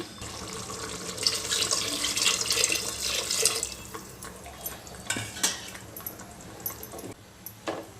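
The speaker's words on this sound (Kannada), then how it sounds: "ಮಸಾಲೆ ರುಬ್ಬಿರೋ ಅಂಥ ಜಾರಲ್ಲೇ ನೀರು ಹಾಕಿ ಇದಕ್ಕೆ ಸೇರಿಸ್ತೀನಿ" Water splashes and pours from a grinder jar into a metal pot of chicken gravy, with clinks of utensils and kitchen clatter throughout.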